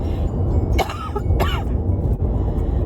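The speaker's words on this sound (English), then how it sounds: "a light cough that was not productive" Two short, light coughs a moment apart, dry and fairly close, over a steady low background rumble.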